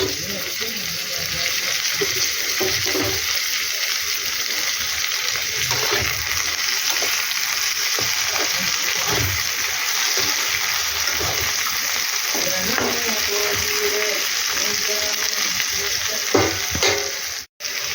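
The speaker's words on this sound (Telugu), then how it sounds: "అవి వేగిన తర్వాత టమాటా ముక్కలు వేసుకోవాలి" Tomato pieces fry in a pan, a loud, dense, steady sizzle and crackle that runs unbroken for a long stretch, with faint stirring and a sharp knock near the end.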